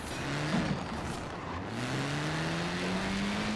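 A tiny Reliant Supervan in Forza Horizon 4 drives along steadily, its small engine droning in a rising, continuous hum with no talking.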